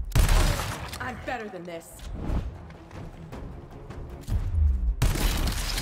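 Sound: gunfire from a video game

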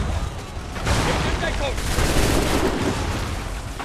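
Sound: gunfire in the video game Assassin's Creed III

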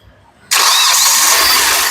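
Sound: Hyundai Grand i10 three-cylinder engine starting

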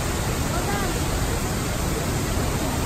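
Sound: waterfall

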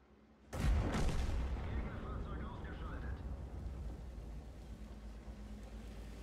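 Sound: tank gun shots in the video game World of Tanks

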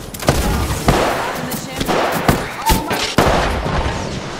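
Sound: frag grenade explosion in video game Apex Legends

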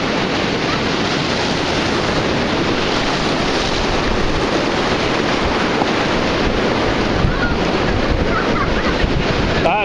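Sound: ocean waves washing up on the beach

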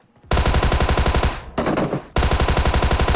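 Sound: Thompson submachine gun firing in video game PUBG Mobile

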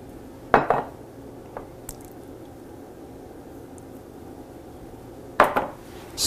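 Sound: mixing flour, salt and yeast in a bowl

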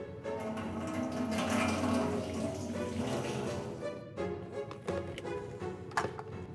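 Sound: water being poured into a metal drum

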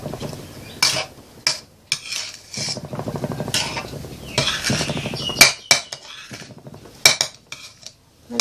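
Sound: stirring mung bean filling in a pan with a spatula

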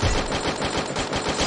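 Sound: gunfire in the video game Free Fire

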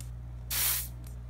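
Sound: room spray being sprayed

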